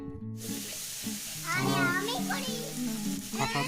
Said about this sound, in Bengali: তেল গরম হয়ে গেলে আমরা ওখানে দিব জিরা, গোটা জিরা দিব। গোটা জিরাটা অল্প ফ্রাই করে তারপরে নাড়িয়ে